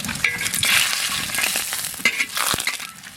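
Bay leaf sizzles in hot mustard oil in a wok, set to become chicken kasha. The sizzle is close, bright and crackling, rising in short bursts and holding steady without any talk.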